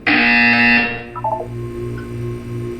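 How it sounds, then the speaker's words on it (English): A loud, harsh electronic buzzer in the video game Portal 2 blares for under a second, then cuts off, leaving a low hum and a few faint tones. "You will hear a buzzer."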